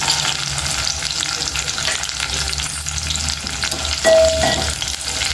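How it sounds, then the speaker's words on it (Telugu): Green chillies, chana dal and peanuts frying in hot oil, a close, steady sizzle with crackling and occasional stirring scrapes, plus a brief clink near the end. "ఇవి పచ్చిమిర్చితో ఫ్రై అయిపోతాయండి చూడండి ఇట్లా మంచిగా ఫ్రై చేసుకోవాలండి"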